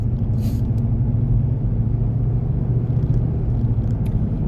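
Vehicle cruising on the road during a drive to deliver hay in North Carolina, a steady low engine and road rumble heard from inside, continuous and fairly loud with no talk.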